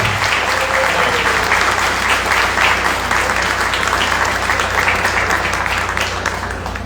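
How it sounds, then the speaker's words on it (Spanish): A large audience at a book presentation applauds for Joaquín Rodríguez, with dense, sustained clapping throughout that stays loud and even before easing slightly at the end. "quiero pedir un aplauso para don Joaquín Rodríguez, que llegue hasta el cielo"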